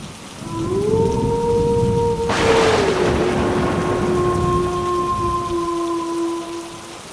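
Heavy rain falls as a steady wash over a low sustained drone, with a burst of thunder cutting in near the middle before the downpour continues evenly.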